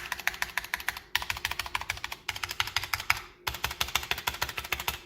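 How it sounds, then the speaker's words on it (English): Rapid, close typing on an NZXT Function pre-built gaming keyboard with dry stabilizers, steady clacking keystrokes in four bursts separated by brief pauses, no voice present. "these are probably the worst sounding stabilizers that I've heard out of a pre-built gaming keyboard in quite some time"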